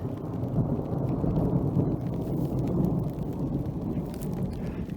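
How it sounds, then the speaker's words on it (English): An approaching thunderstorm with thunder: a steady, deep rolling rumble sustained throughout, with a hiss of rain or wind over it and no voices. "Hear the storm coming."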